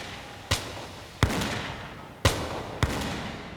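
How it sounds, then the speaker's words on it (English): A volley of gunfire during an ambush in a bush gully rings out as four sharp, separate shots spaced about a second apart, each cracking loudly then trailing into a short echoing decay. "There was a volley of gunfire and one of the fugitives was brought down."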